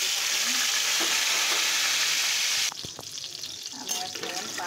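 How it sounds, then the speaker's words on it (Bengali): Marinated chicken feet sizzle loudly in hot oil for a few seconds, then the frying drops to a quieter crackle with a few clinks and stirring scrapes. "আমি এখন পায়াগুলাকে সুন্দর করে ভেজে নেব"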